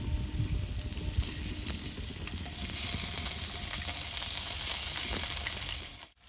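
Potato slices sizzle and fry in hot oil in a pan, a steady dense crackle holding level throughout, up close and with no talking, cutting off abruptly at the end.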